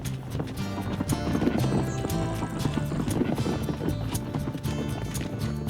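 Wild stallions run with a band of mares, their hooves clip-clopping in a steady, busy patter that continues without a break for several seconds, with no one speaking.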